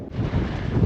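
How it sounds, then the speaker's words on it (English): Strong wind at a volcanic crater in northern Fuerteventura buffets the microphone in a steady, heavy roar with low rumbling gusts throughout. "Oh, guys, it is so windy."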